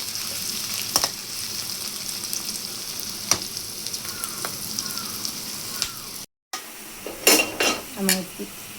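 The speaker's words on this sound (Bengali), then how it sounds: "পেঁয়াজটা ভাজা ভাজা করে নেব।" Chopped onion and green chilies frying in a pan, with a soft steady sizzle broken by sharp spoon scrapes and clinks, and a louder burst of stirring near the end.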